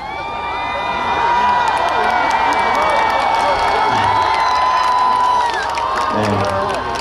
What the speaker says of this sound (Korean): 여러분이 소리 많이 질러주시고